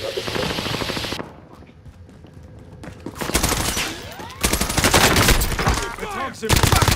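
Rapid machine-gun bursts and gunshots in a multiplayer shooter game, loud and close, with a quieter pause in the middle before heavy sustained fire resumes, mixed with game sounds.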